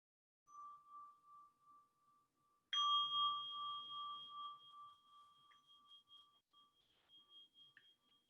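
A meditation bell rings once in a quiet room, a clear sustained metallic tone that rings out and slowly fades, preceded by a softer, fainter chime tone, with no talking.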